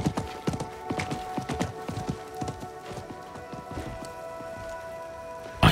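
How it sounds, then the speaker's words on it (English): Horse hooves of a merchant's mount in the video game Diablo 4 clop in an irregular run of sharp hits, fairly close and clear, over a steady tonal game background, with a brief loud burst at the end. "I think that was the merchant's horse."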